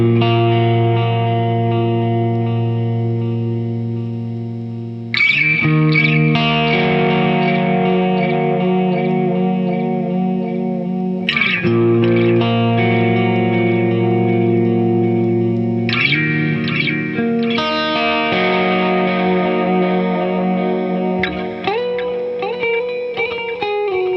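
Seven-string guitar played through the Hughes & Kettner Coreblade amp plugin with all effects engaged, ringing sustained chords and single notes thick with chorus, echo and reverb, restruck every few seconds with no talking.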